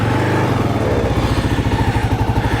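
Kawasaki KLR 650 motorcycle engine catching and settling into a loud, close, throbbing single-cylinder idle with an even rhythmic pulse, no voices over it.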